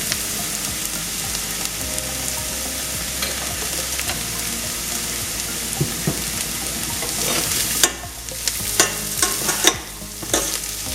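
Onions sauté in a pan until brown, sizzling steadily while a spatula stirs and scrapes repeatedly; the stirring grows louder and busier toward the end, with no voices present.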